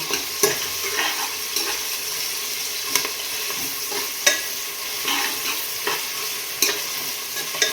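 Onions frying in oil in a pan for pepper chicken fry, a steady close sizzle broken by periodic scrapes and knocks of a stirring spoon, with no talking.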